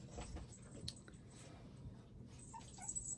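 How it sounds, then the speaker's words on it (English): Dogs whimper and yip softly indoors, faint and close, with a few thin whines rising over low room noise. "dogs."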